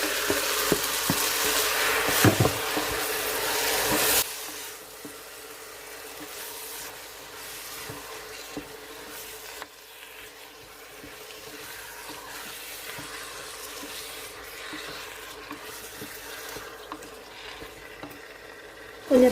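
Mutton fries with onions and tomatoes for a Sri Lankan-style mutton gravy in an Instant Pot, sizzling loudly at first, then settling into a steady, quieter crackle with occasional stirring clinks.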